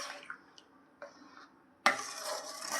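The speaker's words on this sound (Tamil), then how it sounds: "இப்போ நல்லா எல்லாம் கலந்து விட்டுடலாம்." Jaggery syrup is stirred into a moong dal sweet, pasiparuppu ukkarai, in a pan: a few soft faint clinks and scrapes, then a louder wet swishing stir near the end.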